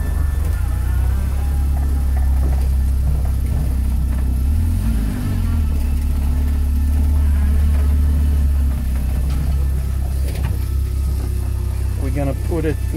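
A 2016 Oreion Reeper Sport 4x4 off-road vehicle idles with a steady, close, low engine rumble while it is shifted into first gear; the drone holds evenly throughout with a brief dip midway, and a voice talks over it.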